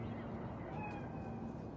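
A cat meows faintly in Night City in Cyberpunk 2077, a few soft wavering cries half-buried in a dense, noisy game ambience.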